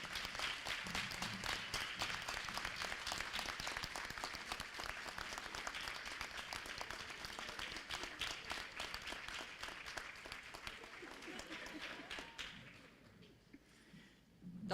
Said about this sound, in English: Dr. Kekana, I'm not sure that you were meant to clap for yourself, but we'll accept that today.